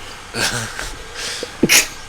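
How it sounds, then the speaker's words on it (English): A voice speaks briefly, then a single sharp sneeze bursts out close by, loud and sudden near the end. "Oh god, I sneeze."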